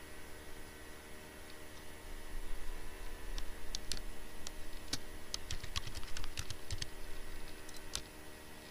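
Typing on a computer keyboard while entering MySQL database commands, a steady run of light, close key clicks with irregular rhythm over a faint background hum.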